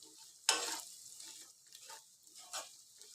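Okra fries in a pan on a low flame, opening with a sharp spatula scrape, then quiet intermittent sizzles and soft stirring sounds.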